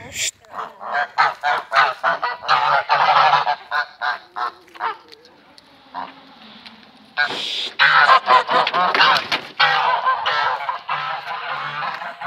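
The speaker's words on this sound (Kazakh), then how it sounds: "Достар, қаздар тиісіп жатыр тауыққа." Geese honk loudly and repeatedly in rapid bursts, several birds calling close by as they pick on a chicken, pausing briefly midway before another burst of noisy honking.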